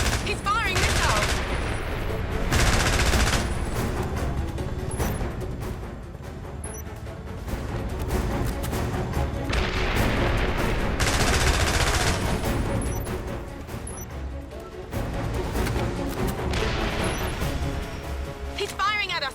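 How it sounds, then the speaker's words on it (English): Sustained gunfire from an enemy attacking in the James Bond 007 Blood Stone video game comes in dense, loud automatic bursts that swell and fade over and over, with voices talking in between. "He's firing at us! Pomrov's firing at us!"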